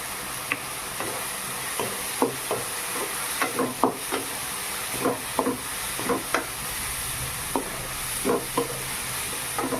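Spiced lentils with kulekhara greens are stirred in a pan over a soft steady sizzle, with a spatula scraping and tapping the pan in irregular strokes, close by and without any talking.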